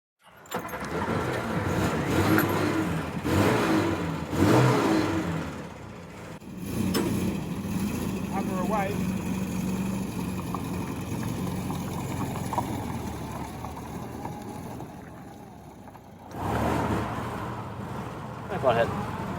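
An MG Midget sports car drives off, its engine a low, rumbling drone that builds and eases along the road. It sits at moderate volume under intermittent conversation, then drops away briefly near the end.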